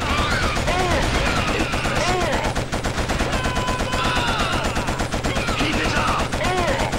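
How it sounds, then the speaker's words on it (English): Heavy rapid gunfire from ISA guns in the video game Killzone, a dense, continuous barrage that keeps up for the whole stretch, with someone shouting briefly over the shooting. "Sounds like ISA guns."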